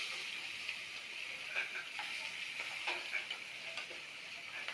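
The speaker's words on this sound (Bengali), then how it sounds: "মাছটাকে ভালো করে ভাজবেন" Fish fries in a pan with a faint, steady sizzle and hiss, dotted with small crackles and soft ticks throughout, with no voices.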